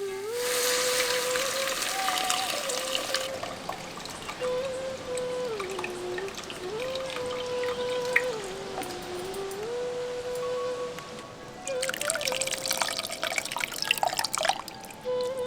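Water poured into a pot of garlic rasam, bursts of splashing and trickling at the start and again near the end, with a steady tone and quieter dripping between them.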